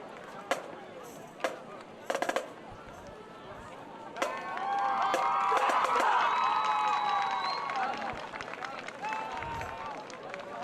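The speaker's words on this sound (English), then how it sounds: "Make sure you give these ladies and gentlemen a nice round of applause" Crowd at a Region 7AA high school football stadium cheering and applauding the Chattooga Indians Band, a burst of sustained cheers swelling midway over scattered claps and distant whistles, with a voice over the PA.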